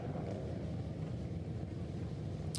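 Racing engines fire up at the Springfield Mile track, a steady low rumble that fills the background with a continuous distant roar and no talk over it.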